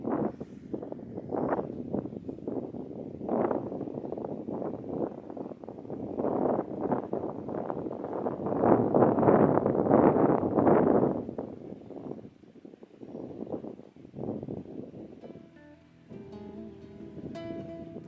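Gusting wind outdoors on a cold, misty day, a rough rumbling wash rising and falling across the stretch and peaking in the middle, with brief tonal sounds near the end.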